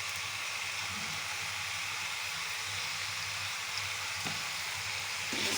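Food sizzling steadily in a hot cooking pan while it is stirred, with a constant frying hiss and a few faint scrapes of the utensil against the pan.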